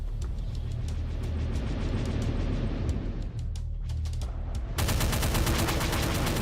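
Doom II gunfire rattles out in fast repeated shots during a Dragon Sector level, loud and steady throughout, then turns into a denser, harsher burst of rapid firing near the end.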